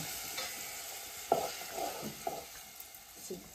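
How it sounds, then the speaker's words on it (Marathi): Spices and garlic temper in hot oil for a tadka over urad flour, producing a soft, low sizzle with a few distinct spoon scrapes and taps against the pan. "तर बघा अशी फोडणी द्यायची घुट्या पिठाची."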